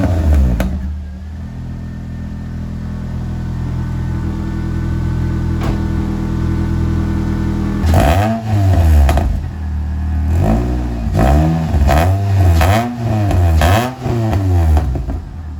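A Ford Fiesta ST150 fitted with a decat exhaust idles with a steady low rumble, then revs hard in a series of loud, rising and falling blips.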